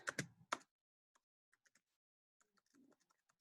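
Clacking keystrokes on a computer keyboard: a quick loud burst of several taps, then sparse, fainter single clicks and a short soft rustle, close by with no talk.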